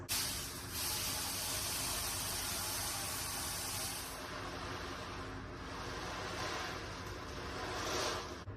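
An ocean drum played to mimic waves gives a steady, loud rushing wash of rolling beads, swelling and easing in long surges with no talking.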